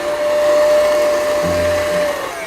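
An electric mixer beats cookie dough with a steady, close motor whine that holds an even pitch for a couple of seconds, alone with no talking.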